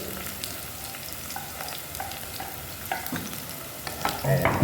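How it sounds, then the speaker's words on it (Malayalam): Ginger and garlic with curry leaves frying in a pan while being stirred, giving a steady close sizzle with scraping utensil strokes that grow busier toward the end. "നന്നായിട്ടൊന്ന് കരിയാത്ത വിധത്തിൽ അതുപോലെ ഒന്ന് ഇളക്കി കൊടുക്കണം"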